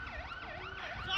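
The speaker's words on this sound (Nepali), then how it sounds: "अब आउँदैछ दमकल" Wailing fire engine siren on a Kathmandu street during clashes between royalists and police, rising and falling in steady sweeps and growing slightly louder as it approaches.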